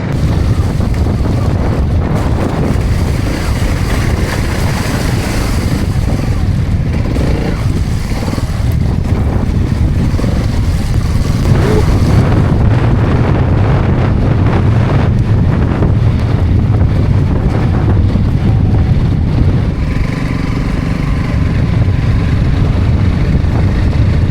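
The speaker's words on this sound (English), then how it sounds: "we've now hit quite a strong blustery wind" Strong, blustery wind buffeting the microphone during a trail ride on Honda CRF 300 L motorcycles, a loud, constant low roar with gusting swells and no speech.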